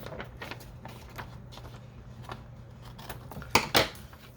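Scissors trim paper for a bag journal, with soft rustling and small snips followed by two crisp, louder cuts near the end, heard close up without speech.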